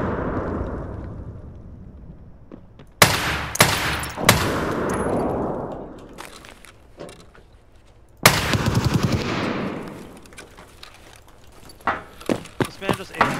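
Loud SR-25 rifle shots in the video game Escape From Tarkov crack sharply with long echoing tails, a few spaced single blasts followed by a quicker volley near the end, while someone talks between them.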